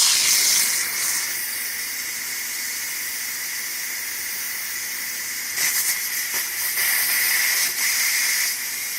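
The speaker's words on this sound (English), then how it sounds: "I'm gonna manually release the steam" Steam hisses steadily as it is manually released from a GoWise USA 12-quart electric pressure cooker, a loud continuous rush that surges a little stronger partway through.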